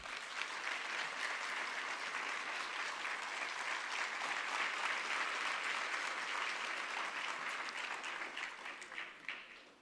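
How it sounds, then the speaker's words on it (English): Sustained applause from an audience welcoming a senior US official at a Central Tibetan Administration event, a dense steady clapping wash lasting the whole span and tapering slightly at the end. "Please give him a huge round of applause."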